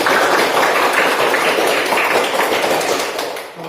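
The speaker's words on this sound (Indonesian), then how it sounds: "Tepuk tangan untuk kita semua." Children applauding together in a classroom, a dense and steady wash of close claps that thins out toward the end.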